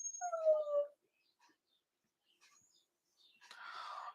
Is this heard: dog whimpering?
yes